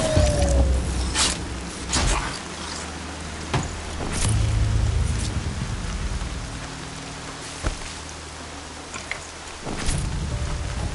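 Rain pours steadily in the video game Horizon Zero Dawn, a dense close hiss of drops with scattered sharper splashes and a low rumbling undertone, no voices.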